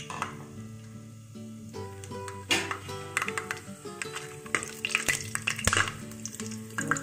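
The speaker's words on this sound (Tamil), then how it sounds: "எண்ணெய் நல்லா காஞ்சிட்ட அப்புறமா இந்த ஐட்டம்ஸ் எல்லாம், பட்டை, லவங்கம் எல்லாம் கொஞ்சம் போட்டு நல்லா ஃப்ரை பண்ணுங்கள்" Whole cinnamon and cloves crackle and sizzle in hot oil for a vegetable pulao, with ticks and pops rising through steady frying and a few metallic pan knocks, close and moderately loud.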